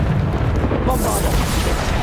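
Bombarda explosion spell cast in Hogwarts Legacy inside the headmaster's office, a dense rumbling blast that swells and sustains with a bright burst midway, under game sounds and voice effects.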